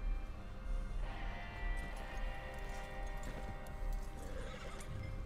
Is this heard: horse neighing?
yes